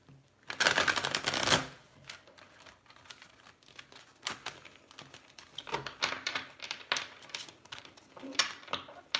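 Tarot cards shuffled by hand during a live reading: a loud burst of riffling in the first seconds, followed by softer, irregular papery flicks and card slides, close and with no talking.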